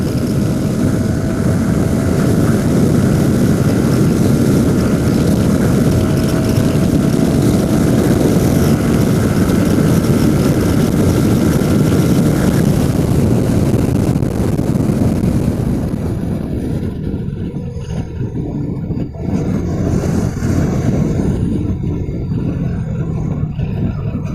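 A Yamaha R15 V3 or Suzuki Gixxer SF 250 motorcycle accelerates in sixth gear, heard as a loud, steady engine roar mixed with heavy wind rush that continues throughout the ride.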